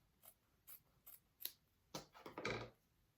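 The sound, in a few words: scissors trimming excess fabric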